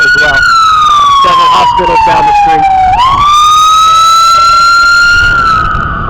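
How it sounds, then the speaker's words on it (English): A loud emergency vehicle siren wails nearby on a street lined with several hospitals, one steady sweeping tone falling, jumping, then rising again and holding for about six seconds, with faint talk underneath. "you get a lot of the siren stuff here as well. Several hospitals down the street."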